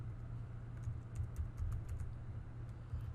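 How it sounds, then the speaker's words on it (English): Light typing on a computer keyboard, a quick scatter of soft clicks over a steady low rumble that sounds like a passing car or engine in the background, quiet and without speech. "So I'll type in add numbers."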